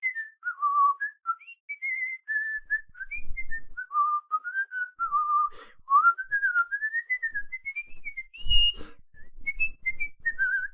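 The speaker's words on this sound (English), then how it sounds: "Sorry, I should stop whistling." A single person whistles the Archer theme tune alone, a clear melodic line of rising and falling notes with a couple of brief soft knocks in the background.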